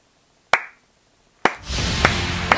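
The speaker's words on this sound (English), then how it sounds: "Sorry for those deafening claps" Loud, deafening hand claps, two sharp claps spaced about a second apart, the second followed by a noisy wash of sound with a few more smacks.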